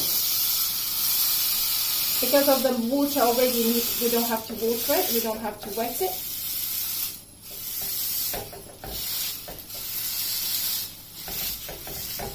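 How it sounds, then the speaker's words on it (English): A continuous hiss and sizzle from flatbread cooking in a hot pan runs steadily while someone talks over it. "You can hear it sizzling right now."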